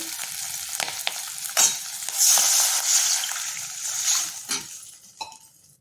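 Water poured into a hot tempering for a savoury halwa gives a loud burst of sizzling and spluttering, then settles into bubbling hiss as it is stirred in a pan, no voice over it.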